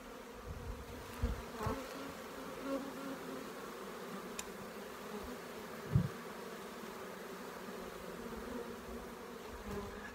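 Bees buzzing around a hive entrance as foragers bring in pollen, a soft continuous outdoor drone with occasional louder passes from individual bees flying close by.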